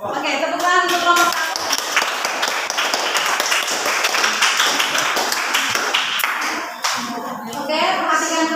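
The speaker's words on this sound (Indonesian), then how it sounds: "tepuk tangan untuk kelompok" Classroom group claps for a student group after their presentation, with sharp individual claps close by, uneven and scattered rather than a dense roar, and voices talking over it.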